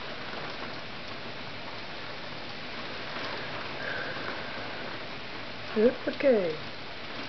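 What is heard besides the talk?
heavy rain during a night storm in The Hague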